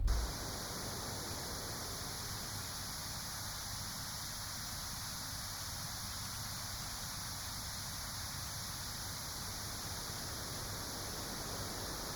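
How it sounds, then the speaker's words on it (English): White noise from a Waldorf Quantum synthesizer oscillator hisses steadily and evenly for the whole stretch, a constant broadband rush with no rhythm or change in level. "And then finally, white noise."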